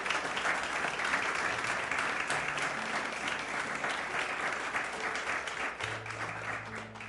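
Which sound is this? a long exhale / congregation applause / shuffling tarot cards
congregation applause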